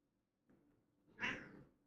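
A single quiet cat meow: a faint chirp, then a louder drawn-out call rising and falling over about half a second in an otherwise hushed room.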